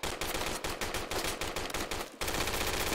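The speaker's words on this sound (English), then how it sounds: "I think a shot came from the south." Gunfire in a video game, rapid repeated shots in a fast automatic rhythm, loud and close, with a brief break before a steady low rumble continues.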